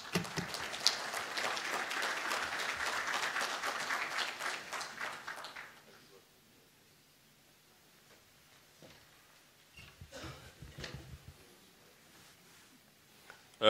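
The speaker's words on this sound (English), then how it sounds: "May I request we give him another round of applause." Audience at the African Union's high-level peace seminar applauds after a minister's address, a dense burst of clapping that fades out after about six seconds, leaving a quiet room with a few faint rustles and thumps.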